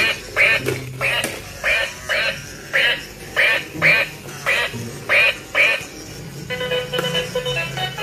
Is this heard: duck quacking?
yes